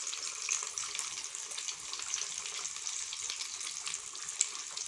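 Pieces of Lahori-style fish fry in oil over medium heat, two at a time, giving a steady, close, bright sizzling hiss with no one talking.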